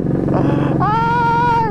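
Modified Honda Beat carburetor motorcycle with a 142cc engine, revving up close and loud, the pitch jumping sharply upward partway through and holding a raspy, rising tone.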